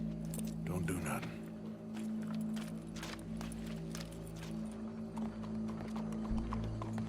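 Hoofbeats from a horse in Red Dead Redemption 2 clop along steadily beneath humming game ambience, with voices talking throughout.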